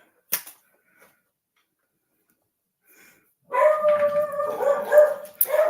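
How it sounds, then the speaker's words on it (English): A dog barks and howls nearby after a mostly quiet stretch with a couple of faint sounds, breaking into loud, sustained, wavering howls mixed with barks toward the end. "There goes my dog again."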